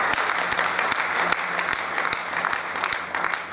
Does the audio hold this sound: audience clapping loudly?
yes